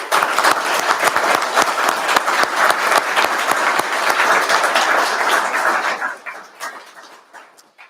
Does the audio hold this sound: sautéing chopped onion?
no